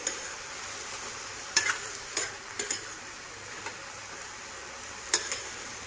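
A spatula scrapes and taps a pan as chopped colocasia (taro) stem is stir-fried, with a soft steady sizzle underneath and several sharp scraping strokes at irregular intervals, close by.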